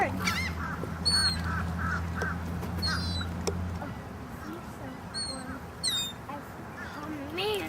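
Geese or ducks honk repeatedly while being fed alongside turtles, a series of nasal calls over a steady hum, with people talking nearby.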